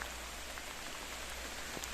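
Heavy rain comes down over a garden with a steady, faint hiss of drops pattering on plants and surfaces, unbroken for a couple of seconds.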